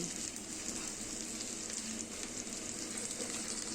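Chopped onion added to frying potatoes gives a steady, even sizzle in hot oil, continuous and close with no pauses or voices.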